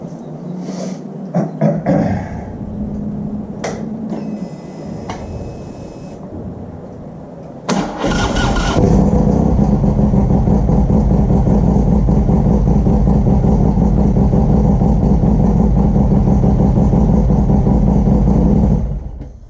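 A 2015 Harley-Davidson Street Glide fitted with a Trask clear derby cover gets a few clicks and handling noises, then the engine cranks and fires into a loud, close, steady idle that rumbles on until the clip ends.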